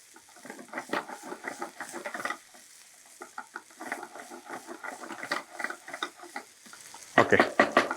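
Garlic, onion and bajji chillies sautéing in a pan as they are stirred, giving bursts of scraping and sizzling in uneven rhythm. A brief pause comes mid-way, and a louder clatter of stirring follows near the end.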